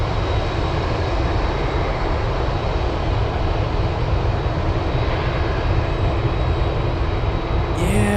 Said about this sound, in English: I just saw F-22s taking off from Emmendorf Air Force Base